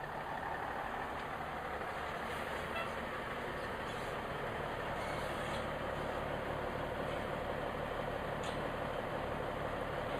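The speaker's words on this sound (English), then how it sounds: "Here we have a truck that is now coming on to the scales to be weighed" A grain truck rolls slowly onto a weighing scale at a grain elevator beside the Mississippi River, its heavy diesel engine a steady low rumble close by with no voices.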